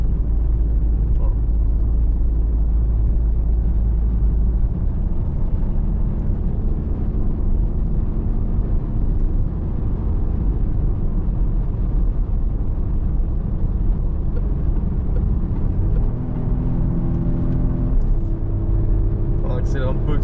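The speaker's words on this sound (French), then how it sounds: "On accélère un peu avec ce petit 3 cylindres." Peugeot 5008 Hybrid with a small three-cylinder engine accelerating, a steady low engine drone and road rumble heard from inside the cabin, rising slightly toward the end.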